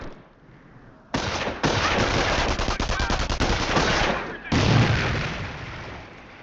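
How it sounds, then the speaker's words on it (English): Company of Heroes battle audio: sustained, loud machine gun bursts rattle for several seconds, then break off and return with a heavier thump, all on a constant combat background. "Let's throw a grenade to destroy the machine gun team."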